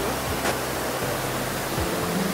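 Waterfall at Vickery Creek in Atlanta, a dense, steady roar of falling water filling the whole space, close and loud, with no pauses and no voices.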